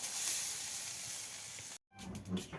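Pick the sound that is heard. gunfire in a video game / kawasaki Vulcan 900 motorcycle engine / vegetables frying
vegetables frying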